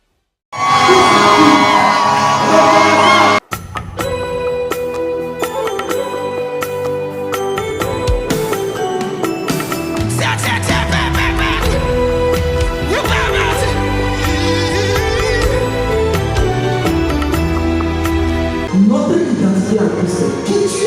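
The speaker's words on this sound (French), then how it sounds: "avec des ovations en l'honneur de l'Éternel, levons-nous et acclamons Dieu" Church congregation at a pastor's anniversary weekend rising in loud, sustained cheering and ovation, a dense crowd roar with whoops and shouts that continues for about twenty seconds after a brief pause, close and full.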